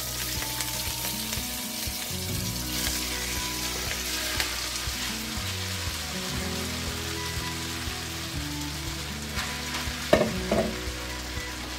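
Rösti dropped into hot fat in a pan hiss with a steady, close frying sizzle that holds at an even level throughout, with a faint tonal hum underneath and no voices.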